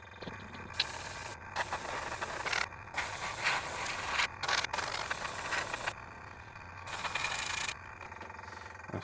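Black spray paint hisses from an aerosol can onto a Tamiya model car body in several separate bursts of a few seconds each, with short quiet gaps between passes.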